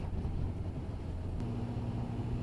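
A Kawasaki H2 SX SE motorcycle engine in second gear at about 30 mph and 3,500 rpm, a steady low rumbling drone with faint wind noise, continuous and fairly loud throughout with a slight pitch rise partway through.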